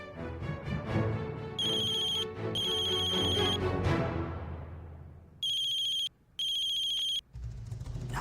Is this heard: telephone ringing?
yes